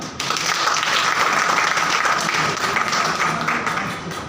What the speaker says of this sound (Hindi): एक जोरदार ताली हो जाए